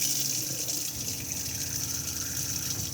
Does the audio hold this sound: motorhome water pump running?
yes